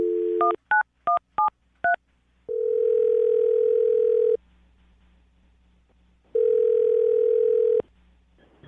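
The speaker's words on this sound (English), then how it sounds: "I'm going to dial the phone number right now." A telephone keypad sends a quick series of DTMF dialing beeps while a number is dialed, followed by two long steady ringback tones separated by a pause, clear and close with no talking.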